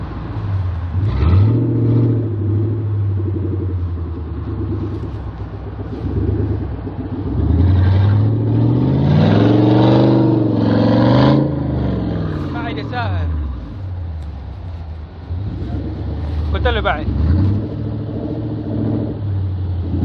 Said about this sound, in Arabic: جيب السيارة مستقيمة